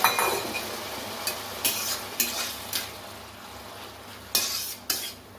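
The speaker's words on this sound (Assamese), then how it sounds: "আৰু এতিয়া মই ইয়াত পানী দি দিছোঁ অলপ" Small fish frying with ginger and garlic in a pan hiss and sizzle loudly as a little water goes in, with repeated sharp bursts and the clink and scrape of a utensil against the pan.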